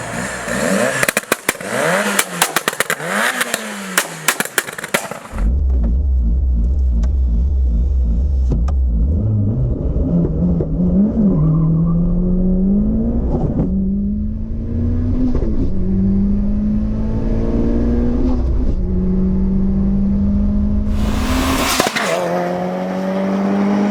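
Engine of a Mitsubishi Lancer Evolution VI RS while driving, heard close and loud from inside. The revs climb repeatedly through several gear changes, the pitch rising in steps over a steady rumble.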